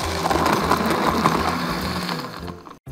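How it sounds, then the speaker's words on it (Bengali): An electric blender whirs through a milk-based sharbat, a loud steady motor drone close by that winds down near the end, cuts out abruptly, and briefly restarts. "চলুন এটা ব্লেন্ড করি।"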